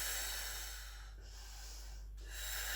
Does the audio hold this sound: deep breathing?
yes